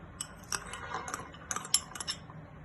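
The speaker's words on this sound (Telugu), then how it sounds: "ఇవి బాగా మిక్స్ చేసుకుందామండి." A spoon clinks and scrapes in a bowl while mixing a salad of sprouts, rajma and peanuts, a quick series of light metallic taps close by, with no talking.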